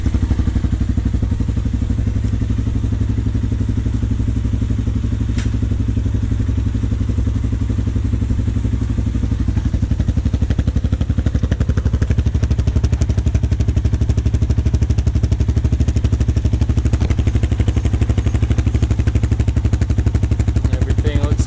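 A Yamaha TT250 motorcycle runs in gear on a new 43-tooth rear sprocket, its engine droning loud and steady at close range with a low rumble and faint rattling clatter throughout.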